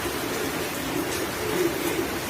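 Young pigeons coo softly in a loft while rain patters steadily on the surface around them, a close, continuous hiss with faint low cooing woven through.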